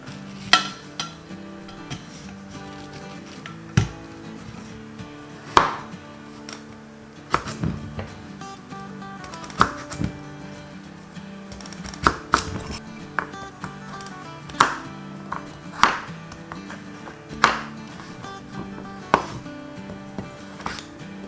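A knife chops kabocha squash into large chunks on a cutting board for curry, sharp, evenly spaced strikes ringing out close and alone in a quiet kitchen.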